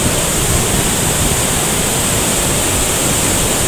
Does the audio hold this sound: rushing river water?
yes